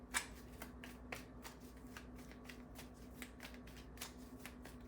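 Tarot cards are shuffled by hand in a string of quiet, crisp riffles and taps, irregularly spaced over several seconds against a low steady hum, faint and close, with no talking.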